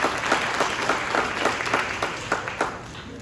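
An audience at a formal diplomatic event gives sustained, fairly close applause, a dense wash of clapping with a few sharper individual claps standing out.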